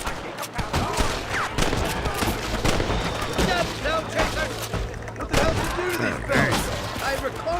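Gunfire in Red Dead Redemption, with loud repeated shots and booming reports in rapid bursts, under someone talking.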